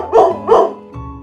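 A cartoon dog in an animated moral story barks twice in quick succession, loud and close, followed by a shorter whining yelp, with no talking over it.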